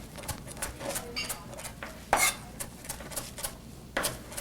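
Fresh cilantro is diced with a knife on a cutting board, a run of sharp, close knocks in an uneven rhythm with two louder strikes, no talking over them.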